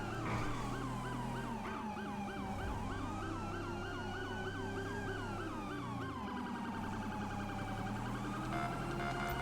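Several police sirens wail and yelp together in the LSPDFR mod for a police patrol game, loud and continuous, with overlapping rising and falling tones and no talking.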